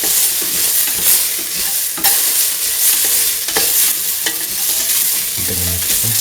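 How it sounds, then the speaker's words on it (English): Split chickpeas sauté in a hot pan, a steady bright sizzle with stirring scrapes and clacks from the utensil throughout, close and loud without speech. "saute it."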